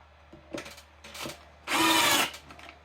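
A power drill drives an 8 by 1/2 inch screw into a wooden box, with two short spurts followed by a longer whirring run, near and fairly quiet.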